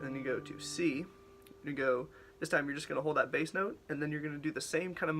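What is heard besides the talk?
None of the usual background noises is heard.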